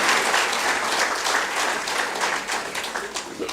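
An audience at a talk breaking into sustained, dense applause, many hands clapping together evenly and loudly throughout without pause.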